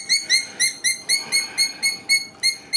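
Outdoors, a bird gives about nine bright, evenly spaced chirps in a steady repeating rhythm, clear and close against a quiet background.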